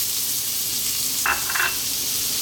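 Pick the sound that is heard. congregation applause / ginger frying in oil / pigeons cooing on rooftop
ginger frying in oil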